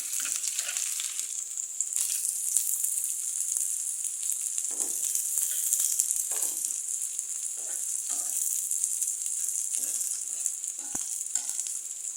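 Onion and garlic frying in mustard oil with whole cumin for beef nihari, a continuous bright sizzle and hiss with intermittent stirring rattles, close and steady.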